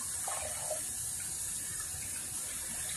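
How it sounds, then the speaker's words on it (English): Warm water pours steadily from a tap into a sink, a continuous hissing splash at low level with a faint clatter partway through, no talk. "Warm water."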